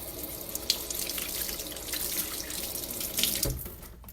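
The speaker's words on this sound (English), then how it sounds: "Now I'm going to wash my hands real quick" Tap water runs steadily into a kitchen sink as hands are rinsed after handling raw eggs, a continuous close splashing stream that briefly swells before tapering off, with no talking.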